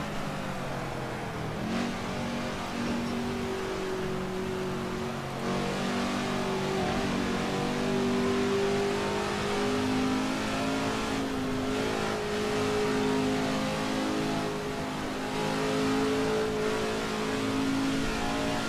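Engines of 1965 Indy 500 race cars drone and rev continuously in the Assetto Corsa racing game, several cars shifting pitch as they jostle and pass one another, loud and steady with no voices.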